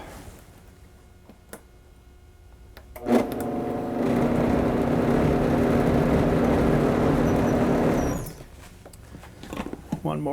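A Vitamix blender whirs steadily for several seconds while blending tomato basil soup, a loud continuous motor hum that starts abruptly and cuts off, with a few clunks before and after and a person talking nearby.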